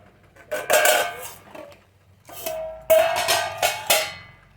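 A tomato being cut on a hard surface while biryani is prepared at home: two bursts of knife taps and clinks of metal against a board or plate, close and fairly loud, separated by a quiet pause.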